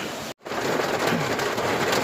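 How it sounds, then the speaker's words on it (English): Heavy rain and gusting wind roar steadily outdoors, briefly cut by a moment of silence before the dense wash returns. "All of a sudden, there was this huge gust of wind"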